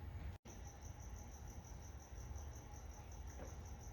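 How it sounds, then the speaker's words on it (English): Crickets chirping in a steady, evenly pulsed trill that runs unbroken and faint in the background, with no talk over it. "the crickets are back too"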